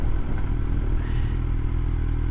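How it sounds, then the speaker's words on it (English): A motorcycle engine rumbles steadily during a night ride on a Tech Spec Tank-equipped bike cruising in third gear, with a loud, continuous low drone and slight clatter and no voices. "this bike just has a lot more engine than I'm used to"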